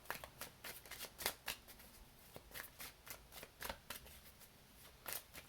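Tarot cards being shuffled by hand, a quiet close series of quick riffling and slapping bursts repeating in an irregular rhythm.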